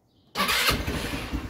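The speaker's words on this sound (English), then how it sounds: "Now, will the vehicle start?" A Vitacci Spark GY6 scooter engine catches abruptly after a quiet moment and settles into a close, loud, rough idle for about a second.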